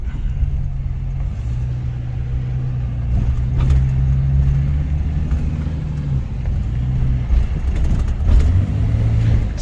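Jeep Grand Cherokee driving and accelerating, heard from inside as a steady low engine drone that rises and falls with throttle; continuous and close, no talk.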